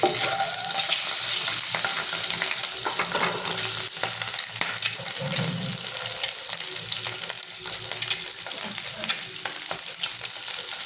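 Eggs lightly frying in a pan make a loud, continuous close sizzle, with scattered crackles and occasional stirring scrapes throughout.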